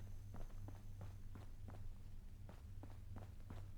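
Footsteps in the video game Fallout London, a quiet, steady series of about a dozen soft thuds at walking pace over a low background hum.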